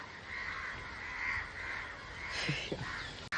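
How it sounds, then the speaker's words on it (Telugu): Crows caw near a coconut that has been broken open outdoors, a few harsh calls rising over a steady hiss of background noise near the end, with no voices. "కాకులన్నీ వచ్చేసినాయి"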